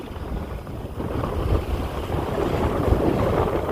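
Steady rushing wind and water noise surge continuously, with buffeting gusts on the microphone and a constant broad roar of a sailboat under sail in 20 knots of wind, off Martinique heading to Saint Lucia.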